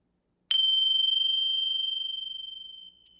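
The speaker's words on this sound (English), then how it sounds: "I'm going to chime the chimes to finish off this exercise." A single meditation chime is struck once, giving a bright metallic ring that sustains and slowly fades over a few seconds in an otherwise quiet room.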